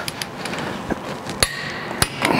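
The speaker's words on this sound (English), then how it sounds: "you're gonna go ahead and torque these" Several sharp metallic clicks from a torque wrench tightening cap screws to 67 pounds on a John Deere 600 chain roll, spaced irregularly over a quiet workshop background.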